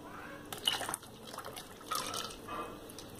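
Used frying oil pours into a caustic soda solution, making a soft, close, continuous liquid trickle with small splashes and drips.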